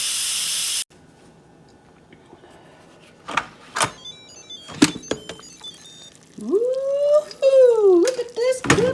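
Instant Pot venting steam from a pressure-cooked frozen roast: a loud, steady hiss opens the clip and cuts off abruptly, then voices and a woman singing follow.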